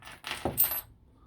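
Small metal key clips snap together at close range with a few soft, quick metallic clinks over about a second.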